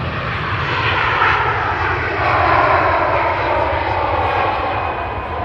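An airplane's engines roar steadily at Manchester Airport, a broad continuous rumble that swells slightly midway and holds loud throughout.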